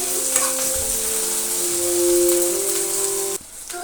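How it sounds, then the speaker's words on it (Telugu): Ginger garlic paste sizzles in a hot pan, a loud, steady frying hiss with crackling bursts that cuts off abruptly near the end, with no voices. "ఇది పచ్చి స్మెల్ పోయేంత వరకు ఒక 2 మినిట్స్ ఫ్రై చేసుకోవాలి"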